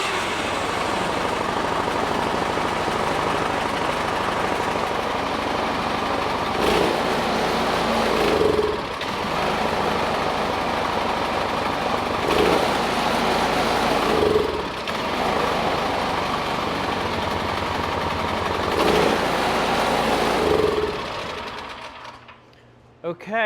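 Craftsman snow thrower engine with no choke and throttle at three-quarters, cranking on the electric starter in a steady droning whir with a few brief surges, running close and loud for about twenty seconds before cutting out.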